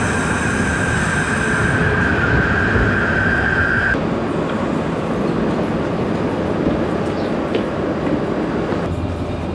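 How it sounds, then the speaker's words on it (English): A train standing at a station platform in Spain, bound for Madrid, with a steady loud rumble of rail machinery and a high whine that stops partway through. "So this is the platform and this is the train."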